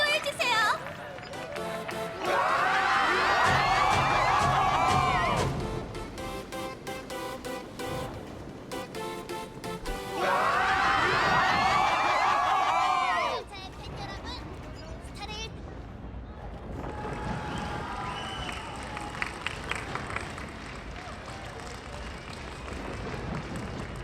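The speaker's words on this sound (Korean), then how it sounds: "은하열차의 귀빈이 곧 입장하십니다. 모두 환호해주세요." A crowd cheers and applauds for an arriving guest in Honkai Star Rail, loud bursts of massed cheering swelling and fading in waves over game music and speech.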